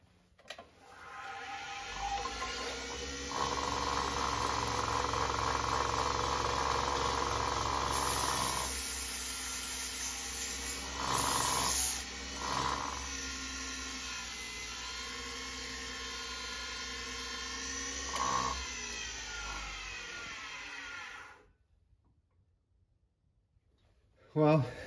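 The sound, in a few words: sanding wood on a lathe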